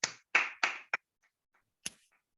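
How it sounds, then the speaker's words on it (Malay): A workshop audience gives a few sharp, close hand claps, four in quick succession, then a short pause and one last clap. "Tepukan."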